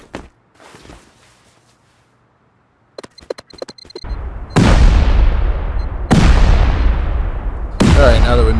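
Explosives blast through a base wall in the survival game Rust: three loud, booming detonations a second or so apart, each with a long rumbling decay, after scattered footsteps and clicks.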